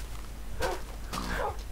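Two short dog barks from the Minecraft video game, about half a second apart, come over a steady low background hum at moderate volume.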